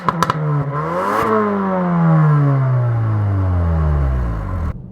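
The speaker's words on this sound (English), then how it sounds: "Fruity exhausts." A 2023 Ford Focus ST facelift hot hatch with a sporty exhaust revs loudly and close by, its engine note sweeping up and then falling steadily, with a crackle and clatter at the start and an abrupt cutoff at the end.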